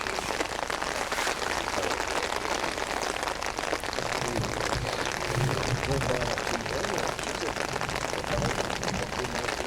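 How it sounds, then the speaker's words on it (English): Steady rain falling over an outdoor floodlit bowls competition, a dense continuous patter hissing throughout, with a voice speaking over it. "rain's still falling."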